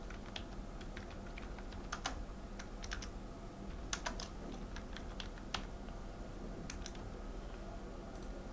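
Someone types on a computer keyboard, entering an interview stage name into a recruitment form, with scattered clicking keystrokes in short bursts and pauses, close but quiet over a steady background hiss.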